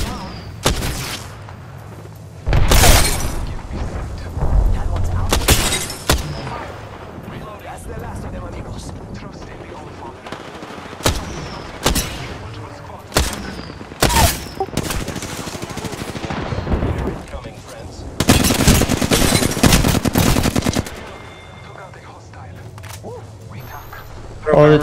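Gunfire in the battle royale game Apex Legends: bursts of automatic fire and single heavy shots break out repeatedly at varying distances, some loud and close, while players talk over the shooting.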